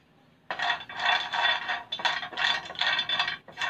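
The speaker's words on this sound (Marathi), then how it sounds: "आणि आता इथे दालचिनीच्या 3 काड्या पण घालते मी।" Cinnamon sticks dropped into a pan of dry-roasting almonds, followed by close, bright rattling and scraping as the nuts and sticks are stirred in bursts against the metal.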